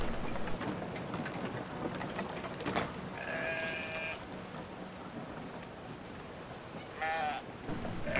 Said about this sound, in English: don't pet the sheep